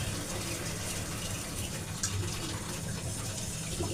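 Tap water runs into a jar left to soak before washing, making a faint, steady splashing rush throughout with no voices.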